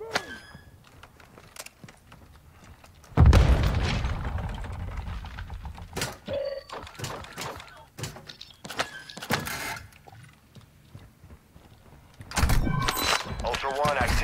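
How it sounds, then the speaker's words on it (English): A grenade explodes in the first-person shooter Modern Warfare DMZ, a loud, heavy blast that lingers, with later game clatter and a second burst near the end while players talk. "Grenade!"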